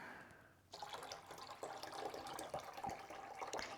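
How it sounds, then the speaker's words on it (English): Water pours steadily into the reservoir of an AeroGarden hydroponic indoor garden, a close, quiet splashing trickle that starts abruptly and continues alone. "I'm just going to fill it up this way. Takes quite a bit of water."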